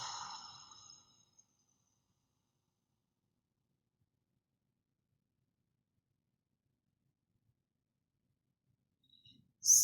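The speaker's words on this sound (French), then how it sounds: "expire longuement" A single breathy exhale, drawn out and soft, fades over about a second during a guided breathing exercise. Near-silence follows, with a faint stir at the very end.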